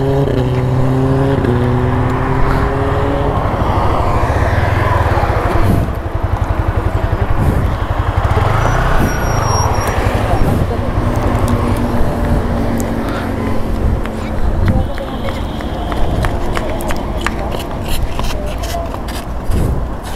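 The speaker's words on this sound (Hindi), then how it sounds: "देख रहे हो भाई साउंड, अभी तो इनमें डीपी किलर लगा हुआ है यार इसमें" Modified Kawasaki ZX10R motorcycle fitted with a dB killer, its engine loud and close with rising revs and sharp throttle blips, mixed with other bike engines and people talking over it.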